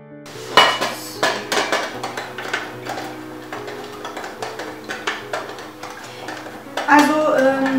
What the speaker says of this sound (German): Und dann drehen wir einfach um und schneiden nochmal so in kleine Stücke.